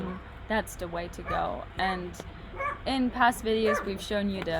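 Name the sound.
neighbor's dog barking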